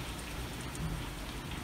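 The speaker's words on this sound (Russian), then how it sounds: "Прямо льет, как не знаю, как из ведра." A heavy downpour during flooding in Abinsk pours as a dense, continuous hiss of rain hitting surfaces, steady and fairly faint, with no voices.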